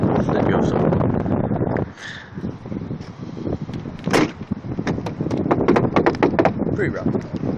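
Wind gusts buffet the microphone outdoors beside a car fitted with a subwoofer system, a steady rough rumble that eases briefly, with a door-like clunk and occasional speech over it.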